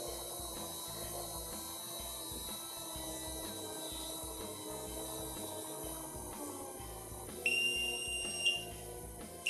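A Tholz industrial controller from the Linha H series sounds its alarm as mains voltage drops too low: a short, bright electronic tone near the end, over a constant mechanical hum of running machinery.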